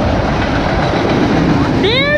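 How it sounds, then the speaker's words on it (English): CSX freight train boxcars roll past on the rails in a loud, steady, close rumble, with a brief high squeal near the end. "That looks like a new CSX boxcar."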